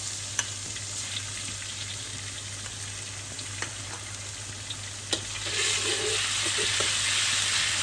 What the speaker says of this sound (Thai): ใส่น้ำมันลงไป พริกค่ะพริกจินดาโปะกับกระเทียมนะคะ